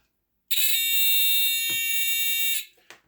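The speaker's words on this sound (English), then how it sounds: "We now have our buzzer tester" A loud, steady electronic buzzer tone sounds continuously for about two seconds, then cuts off, followed by a faint click.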